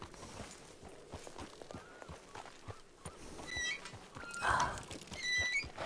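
Horse hooves clip-clop in a slow, irregular walk, soft and a little distant, with a brief whinny-like sound and other faint background noise partway through.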